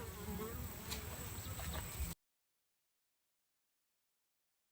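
Steady insect buzzing from many honeybees around hive frames full of nectar, a dense continuous drone that runs for about two seconds and then cuts to silence.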